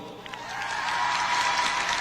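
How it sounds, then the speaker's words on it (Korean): Audience clapping at a concert talk segment at COEX, a swelling burst of applause that builds from moderate to fuller and stays steady, heard close within the hall. "여러분 박수"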